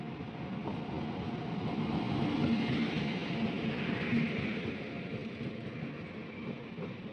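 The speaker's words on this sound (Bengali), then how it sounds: "গাড়ির খবর হলো 2 নম্বর প্ল্যাটফর্মে আসছে" A passenger train, the Kirandul Express, arriving at platform 2 on a rainy monsoon day, a steady low rumble swelling slightly and fading, heard alone with no talk.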